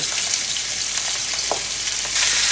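Pork tenderloin searing in a hot pan with butter and salt, a loud, dense, steady sizzle that swells slightly near the end, close up and with no voices.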